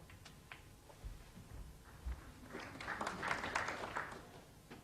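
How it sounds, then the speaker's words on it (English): Audience applause at a 1992 World Championship snooker match, starting faintly after a few isolated knocks and swelling into a brief, moderate burst of clapping from the crowd in the arena. "Well, he got some applause for that"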